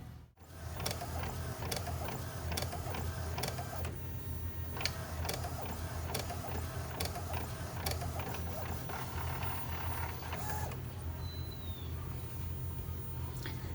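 Inkjet-style home printer running a learning chart of vehicles, a steady mechanical whir with repeated clicking and ratcheting feed strokes, close and continuous with no talking.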